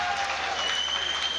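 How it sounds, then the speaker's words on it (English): Arena crowd at a European weightlifting championship cheering an 85 kg lifter: dense, steady applause and cheering throughout, with a commentator speaking over it. "a big cheer for Martirosyan"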